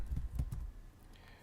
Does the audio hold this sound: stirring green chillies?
no